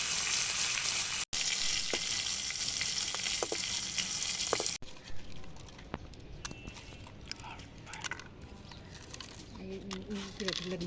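Small hilsa fish frying in a pan of oil in a home kitchen, a steady crackling sizzle that is loud at first, then softer with scattered pops and clatter, with faint background sounds.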